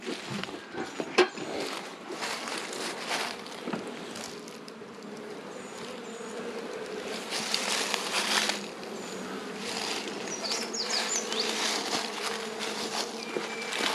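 Honey bees buzz densely around a hive being smoked from a smoker during a beekeeping session, a continuous close drone with scattered rustles and knocks, no talking.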